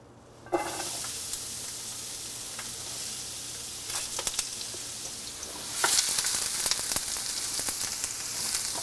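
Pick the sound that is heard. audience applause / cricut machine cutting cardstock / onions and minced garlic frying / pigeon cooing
onions and minced garlic frying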